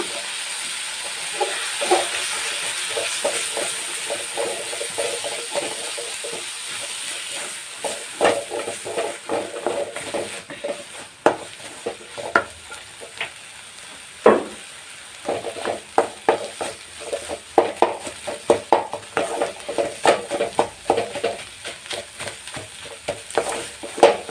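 Mountain spinach and egg stir-fried in a pan, with a steady frying sizzle and repeated scraping strokes of the spatula that grow more frequent later, close and continuous without talk.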